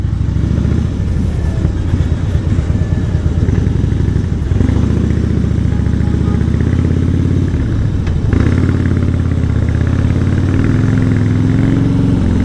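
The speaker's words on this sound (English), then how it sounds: "And see how this bike rips. The low end grunt is amazing." A Harley-Davidson Fat Boy motorcycle accelerating, its engine giving a loud, deep rumbling roar that holds steady throughout with rising and shifting pitch as it pulls, close and without any talking.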